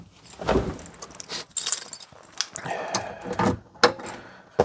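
Car keys come out of a pocket. A close, bright metallic jangling arrives in several uneven bursts with soft rustling between them, and no one talks.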